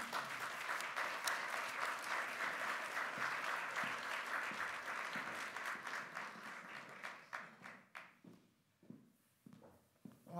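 Warm applause from a lecture audience greeting a guest speaker, steady dense clapping that thins out into scattered claps toward the end.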